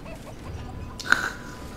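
A chicken clucking in the video game Fable 3, a few faint, brief clucks over a quiet background with one sharper squawk near the end.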